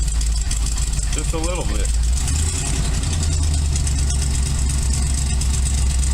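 The engine of a race car fitted with a new carburetor idles loudly as it warms up. It gives a steady low rumble close by while someone talks over it.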